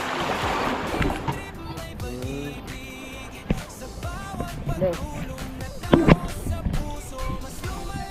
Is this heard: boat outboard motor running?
yes